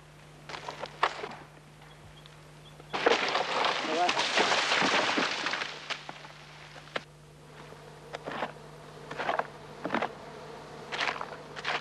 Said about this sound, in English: There's a treat in the trunk of this tree, a native bee's nest.